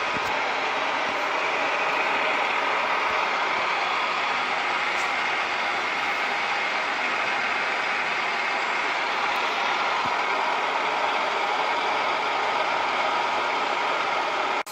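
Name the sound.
milling machine running during spur gear cutting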